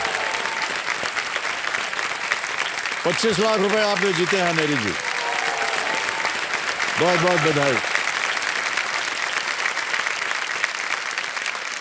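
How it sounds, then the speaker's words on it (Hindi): Studio audience applause on the KBC India quiz show after a contestant wins, a steady loud wash of clapping lasting throughout, with someone speaking over it twice. "तालियां बज जाए इनके लिए"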